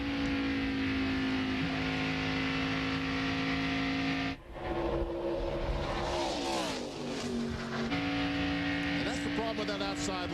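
Stock cars in a 2000 Busch Series race at California Speedway roar steadily past at full throttle, engine drones sliding in pitch as cars run side by side, with a commentator talking over the noise.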